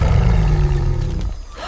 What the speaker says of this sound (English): Howler monkeys so loud.